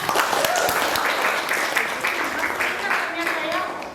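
Students in a class break into brief applause for a classmate, a dense patter of many hands that fades slightly toward the end, with voices mixed in.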